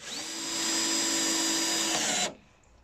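A power drill drives a screw into a wooden jump ramp, one close, loud, continuous whine that holds steady for about two seconds before cutting off abruptly.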